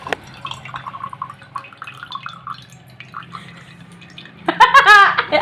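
Coconut water pours and splashes out of a fresh coconut, a short run of wet trickles and drips that grows into a louder gush at the end.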